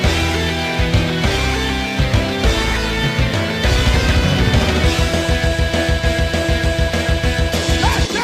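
Count Cannoli stage music from the video game Wario: Master of Disguise, a busy, loud track with driving bass, steady beat and dense melodic lines playing continuously.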